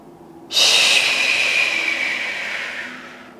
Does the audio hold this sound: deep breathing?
yes